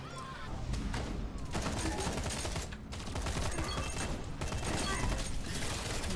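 Dense, sustained bursts of rapid gunfire from the first-person shooter game Lawbreakers run almost without a break, loud and close, with only short dips between volleys.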